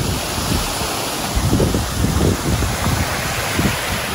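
Waterfall at a mountain RV resort, a steady, loud broadband rush of falling water close by, with gusty wind buffeting the microphone and no talk.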